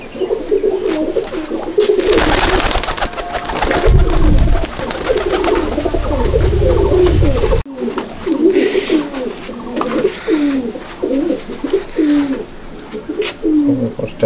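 Pigeons in a loft coo in repeated throaty rolling phrases, loud and close, with a burst of broadband rustling or flapping partway through.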